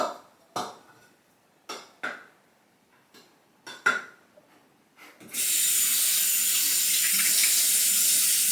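Several light taps and knocks come first, then a tap opens and water runs in a steady, close hiss to wet a synthetic shaving brush at the sink.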